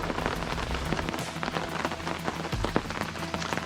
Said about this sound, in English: With all this rain falling though, I wondered if it'd taste better than the tap water in our jerry cans.